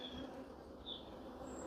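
Honeybees, many of them young, buzz faintly around a nucleus hive frame, a soft, steady hum with a couple of brief higher-pitched passes from individual bees nearby.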